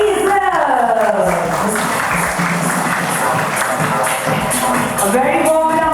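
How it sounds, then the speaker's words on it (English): Crowd applause at a Nikon Z camera launch ceremony welcoming a brand ambassador, steady clapping swelling over a sustained musical backdrop, with a host's voice heard over it. "with a huge and thunderous round of applause, please welcome Mr. Vijay of Vijay Israel"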